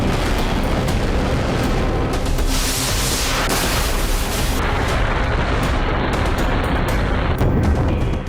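Russian artillery shelling in Avdiivka, a loud, unbroken wall of booming blasts and crackling gunfire that barely lets up, dense and close, with no voices.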